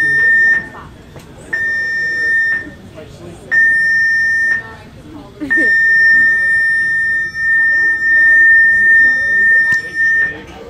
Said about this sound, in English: Seven long beeps.